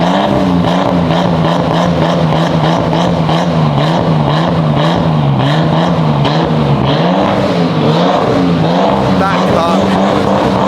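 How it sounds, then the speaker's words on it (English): Nissan R32 Skyline engine idling just after its first start, a loud, rough, uneven rumble that throbs and wavers steadily throughout, close by. "It's on its idling and it sounds like a 6-cylinder instead of a 3-cylinder."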